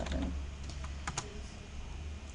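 Computer keyboard typing, a quick run of soft key clicks at close range with no talking, while a line of maths working is entered.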